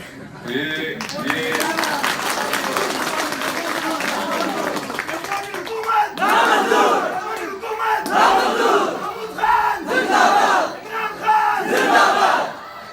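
A large outdoor crowd at a political rally during a chief minister's visit loudly chants slogans against the government in rhythmic, rising shouts. Bursts of clapping and cheering mix in throughout, close and dense.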